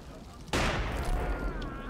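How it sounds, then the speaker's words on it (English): A mortar round explodes in a World War II video game, a sudden loud blast halfway through that leaves a broad rumbling roar lingering to the end. "one of those mortars, isn't it?"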